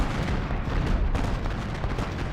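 Artillery fire in the Civil War strategy game Ultimate General Gettysburg, a dense, continuous rumble of overlapping cannon blasts, loud and unbroken throughout.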